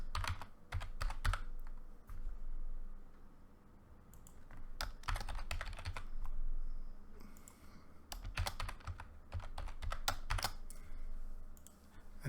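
Keys clattering on a computer keyboard while setting up a user account, coming in quick bursts of clicks with short pauses between runs, close and steady.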